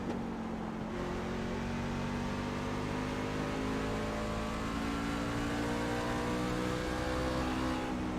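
Race car engine in the iRacing sim, a Fixed C Class car at Myrtle Beach, droning steadily and rising in pitch as it accelerates, loud and continuous with no talk.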